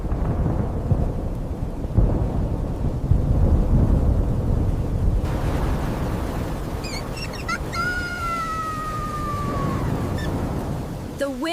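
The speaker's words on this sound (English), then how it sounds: "A storm was coming." A thunderstorm with heavy rain and strong wind, loud and continuous broadband rumble throughout, with bird-like chirps and calls rising over the storm noise in the later part.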